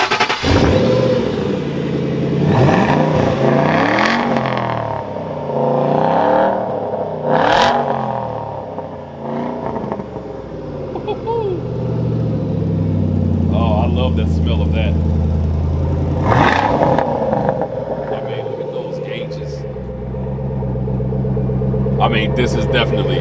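A 1967 car fitted with a 2012 GT500 engine cranks, fires up and settles into a deep, lumpy idle with occasional blips, close by, while people talk over the rumble.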